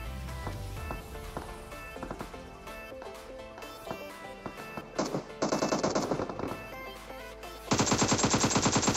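Automatic rifle fire in PUBG Mobile rattles in rapid bursts, loud and close, growing into sustained fire toward the end over game sounds and footsteps.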